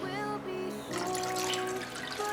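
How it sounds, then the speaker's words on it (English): Water is poured into hot water in a sink or container during cosplay prep, a quiet steady trickle and splash that grows fuller after the first second, with no talking. "Now I'm gonna go ahead and pour in this into the other hot water and see what happens"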